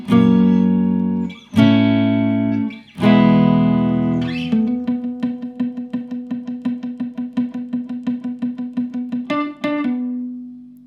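Guitar runs through a full song chorus: three ringing strummed chords, then a fast train of muted alternate-picked notes ending on a held note, played solo and up close.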